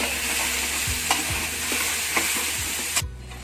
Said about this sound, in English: we are going to add our chopped garlic and onion to the center of the pan and saute them along with the wings